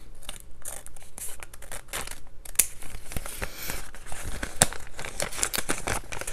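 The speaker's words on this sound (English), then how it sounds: "Okay, I need to cut apart my bag." Scissors snip and slice through a crinkly bag to cut away its bottom panel while making a Christmas junk journal, giving close, loud crumpling and tearing with irregular crisp cuts and no talk.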